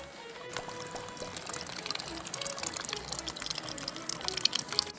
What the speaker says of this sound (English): Should I just go fill it in the sink somewhere?